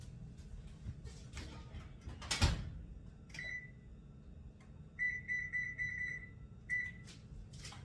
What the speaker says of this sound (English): I'm going to set the oven for 375.